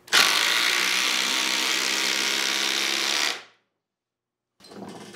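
DeWalt power tool running in a comparison test against Milwaukee, a loud steady whirring motor for about three seconds that winds down to silence, then a brief quieter mechanical restart at the end.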